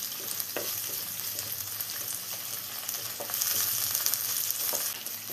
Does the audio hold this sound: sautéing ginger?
yes